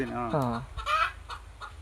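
Native chickens in an airy farm shed give a few short, close clucks, one rising call followed by softer scattered clucking, with no talking.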